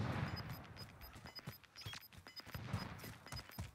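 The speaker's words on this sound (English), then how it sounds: "Here's some shooting going on." Gunfire in the video game Warzone, a rapid rattle of repeated shots at moderate distance, mostly steady bursts with no voices in between.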